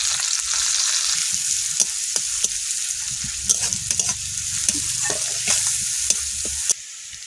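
Chopped onion, garlic, chili and bay leaf fry in hot oil in a pan, a loud continuous sizzle with frequent knocks and scrapes of a spatula stirring throughout.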